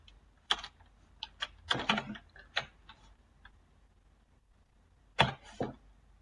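Typing on a computer keyboard, a few short clusters of crisp key clicks separated by pauses, close and fairly quiet with no talk.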